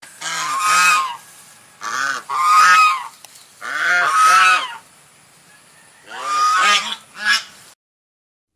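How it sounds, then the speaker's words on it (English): Swans give loud, nasal, brassy honks in four separate bursts with pauses between, close and clear with no talking. "Swans."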